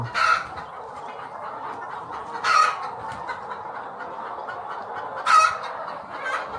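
Laying hens in a poultry house in Yaoundé, a continuous murmur of clucking from many birds with three louder squawks rising above it at intervals, fairly close, no talk.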